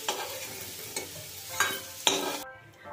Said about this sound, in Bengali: আলুগুলো লাল লাল করে ভেজে নিয়েছি, এখন আমি আলুগুলো তুলে নেব।